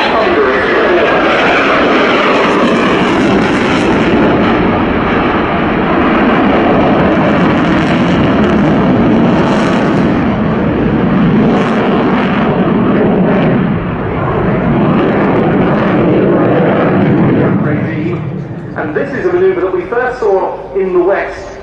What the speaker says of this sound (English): the Liulka, or now Saturn, AL-31F turbofan engines are certainly providing thunderous performance